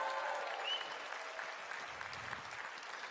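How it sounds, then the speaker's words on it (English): A convention audience in Berlin applauds for Jessica with steady, even clapping from a large crowd, heard at a distance and fairly soft throughout. "Can we give her a warm round of applause for being here in Berlin for the first time?"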